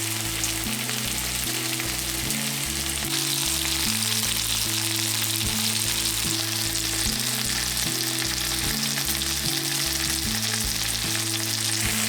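Pork belly slices fry in a pan over medium-high heat, giving a loud, steady sizzle with dense crackle that runs unbroken for the whole stretch, with a low tonal hum underneath and no talking.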